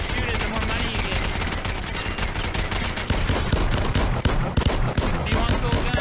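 Rapid automatic gun shooting in the VR video game Gambit on Quest 2, loud overlapping bursts of fire that grow heavier and sharper in the second half.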